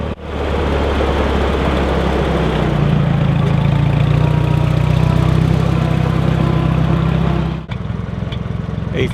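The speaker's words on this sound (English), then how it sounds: "brings the tractor around to start another row" A farm tractor pulling a modified Holland transplanter for planting basil, its engine a loud, steady, low droning rumble that cuts off sharply near the end.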